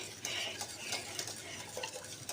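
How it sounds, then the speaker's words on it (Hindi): A spoon stirring custard mixed with milk in a pot, a faint quick series of light scrapes and taps against the metal, soft and steady with no talk. "थोड़ा थोड़ा करके डालिएगा और बराबर चम्मच वगैरह चलाते रहना ताकि लग ना जाए"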